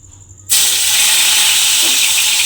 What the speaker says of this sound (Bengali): দেখুন, ঠিক এইভাবে আমি প্রত্যেকটা পকোড়া ভেজে নেব।